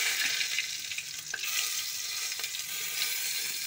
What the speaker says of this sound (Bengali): প্রথমে এই জিরেটা দিলাম আমরা, জিরে দেওয়ার পর তেজপাতা দিয়ে দিয়েছি।